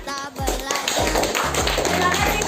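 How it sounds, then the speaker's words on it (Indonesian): A class of primary-school students in a classroom claps their hands together in a short burst of sharp, close taps, with children's voices mixed in beneath the clapping. "Oke, tepuk tangan."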